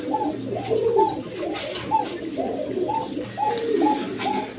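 A pigeon coos repeatedly nearby, a steady run of rolling, throaty calls with a faint background hum.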